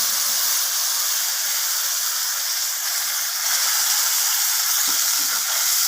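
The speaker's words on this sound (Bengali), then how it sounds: "পেঁয়াজ বাটাটাকে দিয়ে দিলাম কড়াইয়ের মধ্যে" Ground onion paste sizzles and hisses steadily in hot oil in a wok while cooking rohu fish kalia, a close, continuous fry with faint stirring noises near the end.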